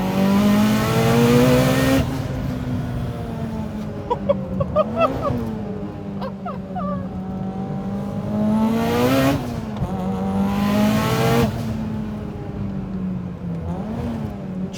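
A modified 800 hp Mitsubishi Lancer Evolution engine revs up hard and climbs in pitch, eases off, then surges again in repeated loud accelerations with a rough, throaty tone.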